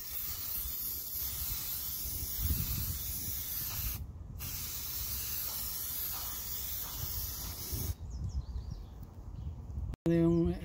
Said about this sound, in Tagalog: Mahangin eh, kaya hirap mag-spray.